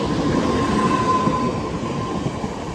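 A train passes through Barking station, a close, loud rumble of wheels on rails with rattling and a sustained metallic whine, holding strong throughout without talk.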